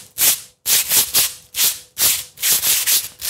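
Two sheets of sandpaper are rubbed together in a series of short, raspy, hissing strokes, close and loud, in rhythmic bursts with brief pauses.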